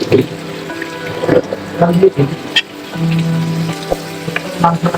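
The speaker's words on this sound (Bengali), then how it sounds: "মাংসটাকে ভেজে নেওয়া হয়ে গেছে এবারে একটু জল দিয়ে দিব" Chicken pieces frying in a pan with potatoes get a splash of water, giving a busy sizzle and bubbling along with stirring clatter, while a person talks over it.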